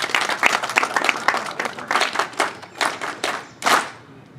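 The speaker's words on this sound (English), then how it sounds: "Let's give him another round of applause." Audience at a leadership transition ceremony applauding, scattered claps building into irregular bursts that rise and fall over several seconds, fairly close and alone without talk.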